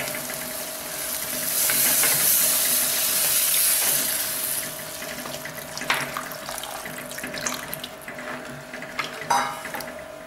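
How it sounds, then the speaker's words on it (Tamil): Tamarind water is poured into a pan of spices sizzling in oil for a vegetable moong dal kulambu, a steady close watery pour and hiss with faint clinks, and no voices. "இப்போ நம்ம புளி கரைசலை ஊற்றுவோம்."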